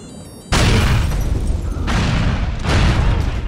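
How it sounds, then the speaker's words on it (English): A loud, sustained car bomb explosion in Grand Theft Auto IV bursts in suddenly, followed by a second swell of rumbling blast noise, dense and booming like a video game detonation. "Another cool looking explosion."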